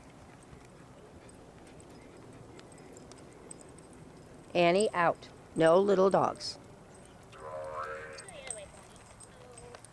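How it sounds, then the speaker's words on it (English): Horses galloping across a field some distance away, their hoofbeats faint and steady beneath nearby talking. "You see the horses in the back are galloping."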